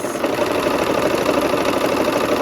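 A sewing machine stitching a barn quilt sampler block: a steady motor whir with a fast, even stitching rhythm running throughout, close and with no talking.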